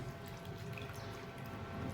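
Water wrung by hand from grated pumpkin for raita, a steady soft trickle and splashing into a bowl, fairly close and continuous with no voices.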